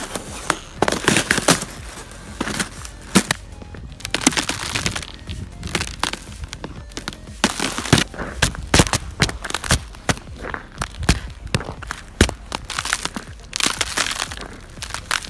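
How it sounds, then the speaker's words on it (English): Boots crunch through crisp, crusty snow in a quick, uneven run of sharp, brittle cracks and crushing steps, close and fairly loud with no voices. "Crisp crunch under those boots hits the spot perfectly."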